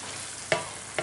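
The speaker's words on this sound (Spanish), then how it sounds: "ya el tomate está frito" Tomato with chorizo fries in a pan as a steady close sizzle, with two sharp stirring scrapes; no voices.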